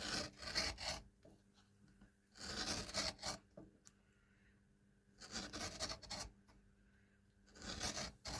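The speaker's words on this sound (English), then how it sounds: "Then I'm going to cut a stitching groove into the leather" Leather for handmade Oxford shoes being scored with a stitching-groove cutter: four separate raspy scraping strokes, each lasting around a second, close up with quiet pauses between them.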